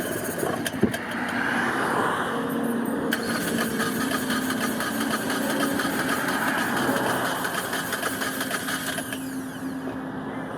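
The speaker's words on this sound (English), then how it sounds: "We can try starting it again now," A car engine being restarted after misfiring and losing power on a road trip in India, running steadily and close with a rough mid-range drone and a faint ticking rattle throughout, no voices.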